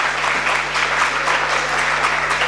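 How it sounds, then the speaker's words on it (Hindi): A congregation at a sermon breaks into loud, sustained applause, a thick continuous wash of many hands clapping at close range, with a low steady hum beneath it. "जोरदार तालियां खुदा के जलाल के लिए"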